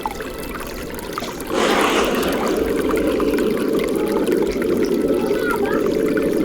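River water flows and splashes as someone wades through a river in the Dominican highlands near Juncalito. The rushing grows louder and fuller partway through, and faint voices sound beneath it.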